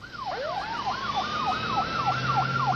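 A wailing emergency siren from fire and ambulance units, its pitch sweeping up and down in a steady repeating yelp, loud and close, with a second steady tone and road traffic rumble underneath.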